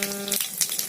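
Five-spice tempering for moong dal dalma hits hot oil, a brief close sizzle of crackling seeds with a sharp burst partway through, alone with no talk.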